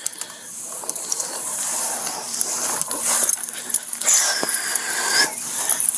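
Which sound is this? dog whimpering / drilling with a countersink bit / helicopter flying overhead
dog whimpering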